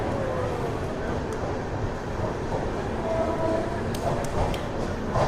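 The Coromandel Express from Chennai to Shalimar pulls into Ongole station, a steady mid-level rumble of rolling coaches on a crowded platform with faint voices in the background.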